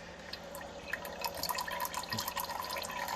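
Snowmelt water dripping and trickling through a coffee filter, a steady stream of small, close drips and patters with no talking.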